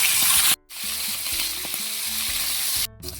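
Food fries in a hot pan with a loud, steady crackling sizzle, broken by two brief near-silent cuts, while faint stirring knocks sound underneath.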